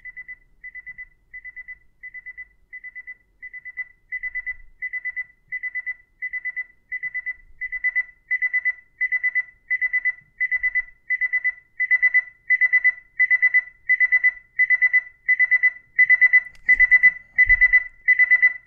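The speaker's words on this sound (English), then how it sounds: "It gets really loud, and I'm gonna let you listen to that." A SoundBot SB1025 alarm clock with an FM radio and Bluetooth speaker sounds its alarm: a steady train of short, high electronic beep bursts that starts soft and grows louder and denser until a clunk near the end, with no voices.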